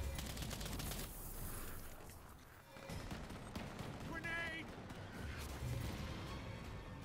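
Rapid automatic gunfire from the Earthfall video game, sustained bursts of shots and impacts running through the whole stretch over dense game noise, with a player talking over it.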